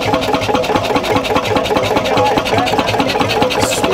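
A Lille Skagen glow-head two-stroke diesel dinghy engine runs at a steady idle, its rapid, even thumping firing pulses close and loud throughout.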